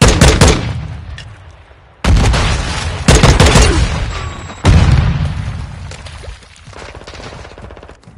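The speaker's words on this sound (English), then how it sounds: "Throwing grenade!" Loud video-game combat: a sharp grenade blast followed by heavy bursts of rapid gunfire and booming impacts, each decaying into echo before the next volley.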